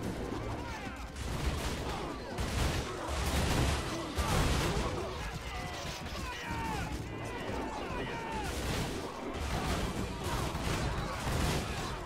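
A volley of musket gunfire rolls through a battle in the video game Alexander Remastered, with dense overlapping cracks and rumbling bursts sustained throughout, loud and continuous.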